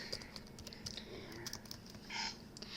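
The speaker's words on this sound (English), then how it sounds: "you do the typing" Typing on a computer keyboard: quiet, irregular key clicks in short bursts, faint and close, with a soft hum underneath and no clear speech.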